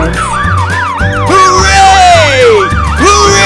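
A toy ambulance blares a loud, rising-and-falling electronic siren right up close, its repeating wail filling the whole moment with a steady pulsing tone underneath.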